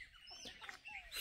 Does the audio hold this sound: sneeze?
no